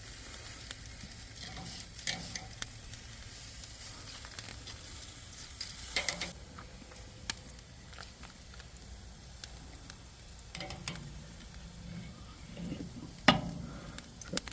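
Pork steaks sizzle on the elevated rack of a Weber kettle grill, a soft continuous hiss broken by scattered pops and crackles and a few louder clicks as they are flipped over the heat.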